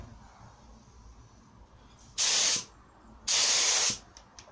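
Two loud bursts of a DeVilbiss spray gun hissing out paint onto wardrobe doors, each lasting about half a second, separated by a short pause over a quiet background.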